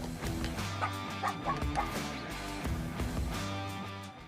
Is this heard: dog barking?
yes